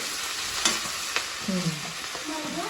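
Ground spice masala roasting in mustard oil with cumin for kadai paneer, a steady close sizzle broken by a few sharp scrapes and clinks of a spoon stirring the pan.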